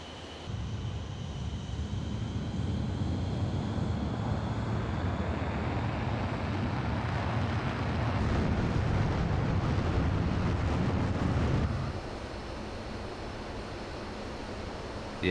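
Four Concorde engines roar at takeoff in Microsoft Flight Simulator: a loud, steady broadband rumble swells slightly before dropping to a lower, even roar after about twelve seconds, with no voices.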